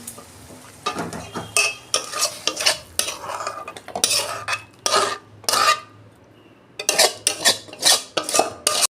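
Cooked ridge gourd curry being scraped and poured out of a pan, a busy run of loud metal spoon scrapes and clanks in quick bursts with a brief pause midway, close and alone.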